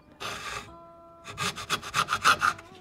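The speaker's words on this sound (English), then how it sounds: "This is a hacksaw, made for steel of course, but you know, the fine teeth on it work really good for plastic." A hacksaw with fine steel-cutting teeth cuts through a plastic AK magazine, a short burst of strokes, then a pause, then a quicker run of rasping back-and-forth strokes, close and fairly loud.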